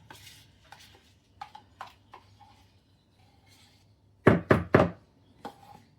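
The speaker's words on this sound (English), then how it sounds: "Scrape down your bowl as needed." A spatula scrapes and knocks against a mixing bowl while sour cream is worked in for cornbread batter: light scattered taps, then three louder close knocks in a row, then softer scrapes.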